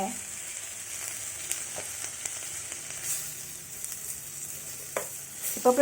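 Tempering spices fry and sizzle in a pan of oil with salt for gongura (sorrel leaf) pickle, a steady soft crackle with occasional stirring clinks, louder scraping near the end, no talking.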